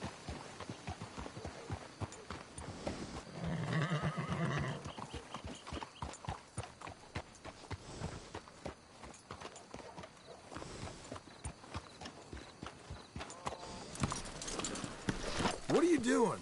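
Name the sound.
horses clip-clopping and neighing, video game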